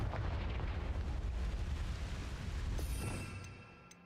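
The Confringo blasting spell goes off in a Harry Potter video game as one long, heavy, rumbling explosion that roars for several seconds and then fades.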